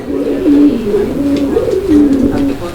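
Fancy pigeons at a pigeon farm coo in a close, repeated throaty rhythm, each low, rolling call swelling and falling several times in a few seconds.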